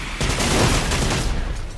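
Bullet gunfire in the video game Generation Zero, a dense rapid burst of shots blending into a continuous loud crackling roar that eases off toward the end.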